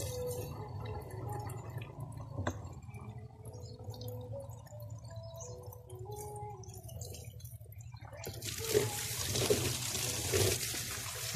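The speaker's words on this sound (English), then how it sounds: "It's really 9 seconds to fill in the 5 liters of absolute empty bottle" An Aquaspeed A4000 submersible pump fills an empty 5-liter bottle with water, giving a steady trickling, gurgling flow throughout with a low hum beneath, and the pour grows brighter and splashier toward the end.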